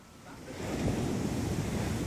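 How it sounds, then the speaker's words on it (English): Stormy sea with surf crashing and strong wind blowing, rising from a moderate roar into a loud, sustained rush of breaking waves and gusts, with no voices. "A huge storm blew up"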